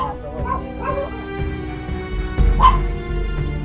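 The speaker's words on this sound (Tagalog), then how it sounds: "Magagalit ng aso ko." A dog whimpers and gives short yips and barks amid people talking over a game, with one sharper bark standing out near the end.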